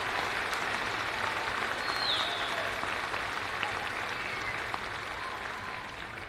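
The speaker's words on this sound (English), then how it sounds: "please join me in giving a class of 2026 a round of applause" Graduation crowd at the Mooresville High School ceremony applauding the class of 2026: a thick, sustained wash of many hands clapping at a steady level throughout, with no voices over it.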